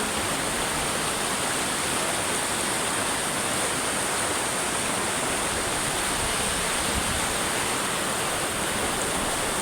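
Waves lap near the shore in a continuous, even wash of water noise. It is loud and close, with no distinct rhythm and no voices.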